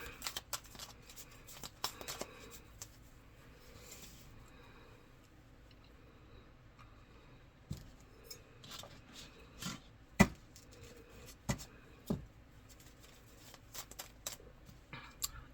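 Playing cards being shuffled by hand in quiet surroundings, scattered soft riffles and sharp snaps at irregular intervals, close and faint overall.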